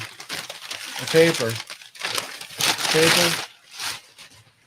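Cardboard folded around movie discs and wrapped in plastic film is handled and crinkled in loud, rustling bursts, with a brief voice heard between the crackles.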